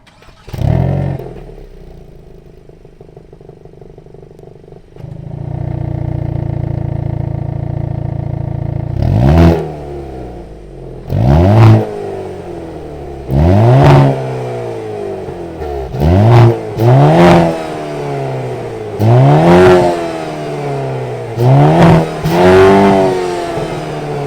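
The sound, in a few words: 2022 Hyundai Kona N 2-liter turbo engine revving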